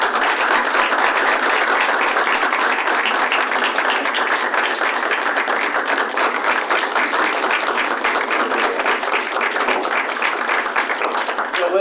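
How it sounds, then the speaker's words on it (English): A town council meeting room fills with loud, continuous applause for Lizzie Swan, many hands clapping steadily and evenly for about twelve seconds. "I think we should give a round of applause and thank you to Lizzie Swan for her initiative"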